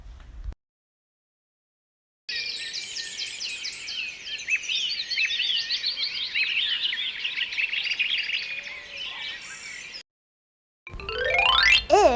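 A bird calls in rapid, bright chirping trills that run for several seconds, loud and close, with a short burst of another high chirping sound at the end.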